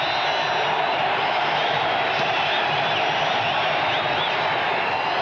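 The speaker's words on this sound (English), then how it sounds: "And here's the crowd back into it for the defense." A football stadium crowd roars for the defense during a 1992 Chiefs vs Seahawks night game, a steady, dense wall of cheering and whooping that holds throughout.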